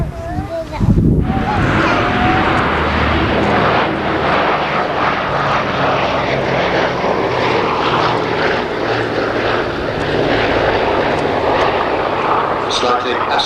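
A WWII B-24 bomber with radial piston engines flies past at an airshow with its undercarriage retracting, a loud rumbling propeller drone sustained throughout, with someone talking over it.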